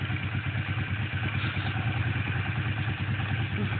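A motorcycle engine runs close by while the rider gives it gas, making a steady, rough mid-pitched drone with a faint pulsing chug throughout.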